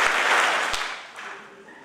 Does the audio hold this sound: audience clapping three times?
yes